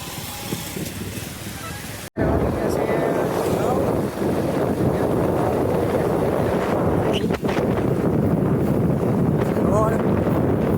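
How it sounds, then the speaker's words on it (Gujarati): Steady wind buffeting a microphone outdoors beside waterlogged village farm fields, a loud continuous rumbling roar with a brief dropout near the start. "ખેતરમાં અત્યારે પાણી ભરેલું છે અને પવન આવે છે"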